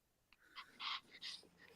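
Small Pomeranian dog making a few short, soft whimpering yips in quick succession, close and fairly faint against a quiet room.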